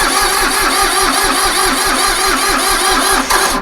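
A small Iseki tractor's diesel engine cranks over steadily with the fuel wide open, a continuous rhythmic churning of the starter, loud and close throughout without firing.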